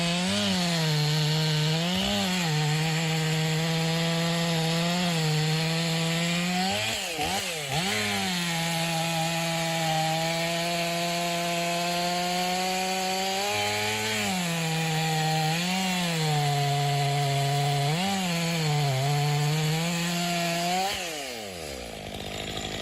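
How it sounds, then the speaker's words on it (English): A chainsaw bites continuously through a massive tree log, its engine droning loud and close with pitch dips and surges as the chain loads up in the wood, then revving down near the end. "The massive log is swiftly and decisively brought down by the chainsaw."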